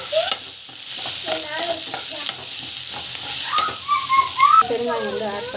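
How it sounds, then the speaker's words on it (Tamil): Onion and green chili sautéing in a pan with oil, a steady broadband sizzle under repeated stirring scrapes, with a thin whistle-like tonal sound running through the second half. "ஸோ பச்சை மிளகாய் வெங்காயம் வந்து போட்டுக்கலாம். நல்லா வந்து கலர் வந்து கொஞ்சம் அளவுக்கு வதங்கட்டும்."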